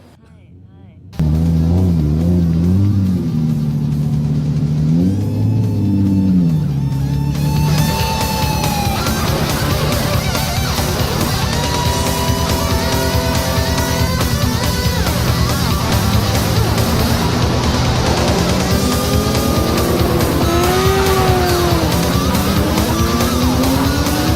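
A 1992 Nissan Skyline R32 GT-R race car on a track, its engine droning loud and close with rising and falling revs and shifts throughout, while someone talks over it.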